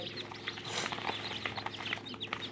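Many small high-pitched chirps from newly hatched native village chicks beside an incubator, overlapping in quick, busy bursts, fairly close, with a steady low hum behind.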